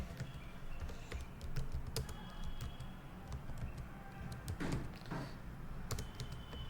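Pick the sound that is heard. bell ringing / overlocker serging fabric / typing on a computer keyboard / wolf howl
typing on a computer keyboard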